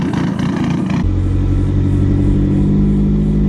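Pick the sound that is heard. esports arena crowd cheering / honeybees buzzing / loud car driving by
loud car driving by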